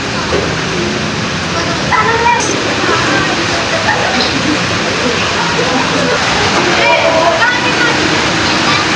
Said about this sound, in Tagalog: Biglang lakas ang ulan.